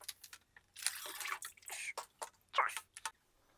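Water drips from a sump pump check valve in a basement sump pit, a run of irregular wet splashes and trickles, fairly close and moderately loud, with no talking.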